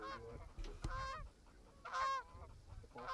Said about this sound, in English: Geese in there too.